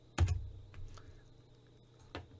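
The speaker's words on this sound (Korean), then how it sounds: "J를 누르고" Computer keyboard in CAD software as the J key is pressed, a sharp close click followed by a few softer taps and another click near the end, quiet and isolated.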